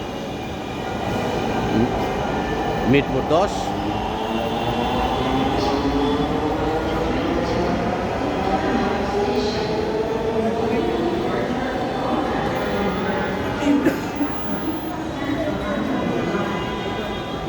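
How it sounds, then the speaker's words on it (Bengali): Dhaka metro train running through Mirpur 10 station, a long sustained rumble and whine of the cars with a few brief wheel squeals, while people talk and a station announcement is heard over it. "এটা হলো metro rail, Bangladesh metro rail station"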